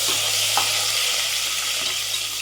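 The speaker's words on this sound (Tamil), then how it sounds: "அதுலேயே பச்சை மிளகா போடுறோம்" Green chillies frying in hot oil with crushed pepper and cumin, a continuous loud sizzle with a couple of faint stirring knocks, close up and steady.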